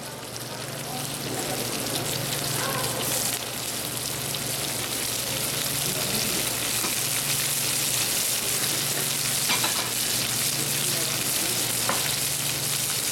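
Sculpin fish fillets frying skin-side down in grapeseed oil in a hot pan, a steady, loud, dense sizzle that holds unbroken throughout, close by.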